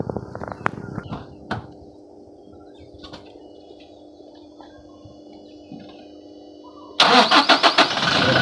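A car engine cranks and catches after a jump start from a CD-50R battery charger, the start bursting in loud near the end of the clip after a long stretch of quiet engine hum and a few clicks.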